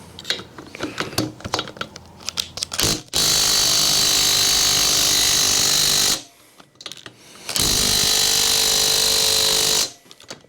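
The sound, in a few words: Makita power tool loosening motor bolts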